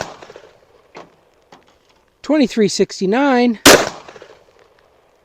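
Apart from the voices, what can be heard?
5.7x28 LC carbine firing handloaded rounds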